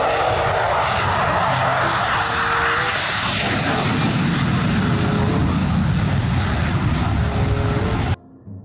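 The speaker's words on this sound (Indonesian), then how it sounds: "Di sini ada pesawat tempur sedang bersiap-siap untuk menyerang teman-teman" A loud, steady fighter jet engine roar fills the clip, constant and near, then cuts off abruptly near the end.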